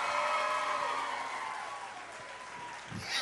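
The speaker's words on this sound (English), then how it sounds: "Couple number 2, big round of applause." A cruise ship show audience applauds a couple on stage at a love and marriage game show, with steady, dense clapping that slowly fades, and a voice briefly rising at the end.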